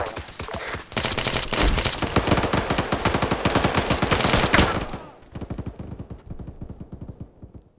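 A PKM machine gun fires long, rapid bursts, loud and dense for several seconds, then continues as a thinner string of quicker shots that trail off.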